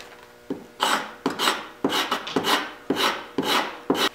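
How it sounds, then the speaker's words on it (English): Wood being scraped on a lathe with a turning tool held at about 90 degrees to the workpiece: a rough, raspy scraping repeated in regular strokes roughly every half second, loud and close, with no talk. "and I'm going to scrape"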